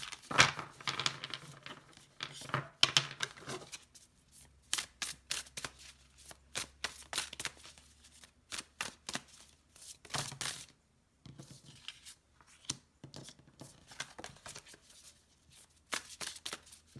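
Tarot cards being shuffled by hand, repeated crisp riffling and slapping bursts in quick irregular runs, close and clear with short pauses between.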